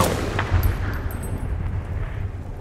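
A heavy, booming burst of gunfire in the military shooter Battlefield Bad Company 2, loud and close with a rumbling low-end tail that fades over a couple of seconds.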